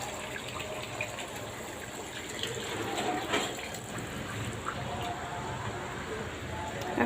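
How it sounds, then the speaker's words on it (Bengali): Hot water pours steadily into a cooking pot of chicken roast, a continuous rushing splash, close and fairly loud, lasting throughout without pause. "এখন আমি একটু গরম পানি দিয়ে দিই"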